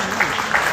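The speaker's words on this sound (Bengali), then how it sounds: "জোরে হাততালি তার জন্য হোক" Audience applause at an event bursts out briefly, a short wash of clapping heard close and loud.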